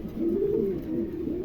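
A pair of pigeons offered for sale give soft, low, repeated coos, close but fairly quiet, with no talking over them.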